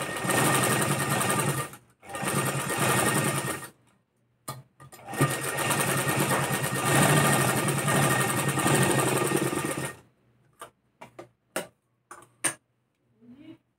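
Electric sewing machine stitching a katori blouse: steady, close whirring runs in long bursts with short pauses, then stops and gives way to a few brief clicks and taps.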